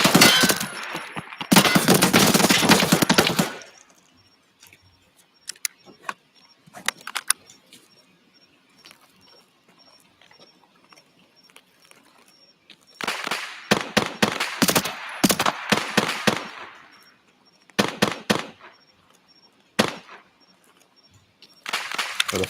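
Distant gunfire from a firefight at Sawmill in a video game, sharp bursts and short volleys separated by quiet stretches, with scattered single shots near the end.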